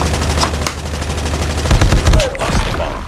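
Rapid bursts of automatic gunfire from a game, loud and close, firing in quick repeated volleys with no talking.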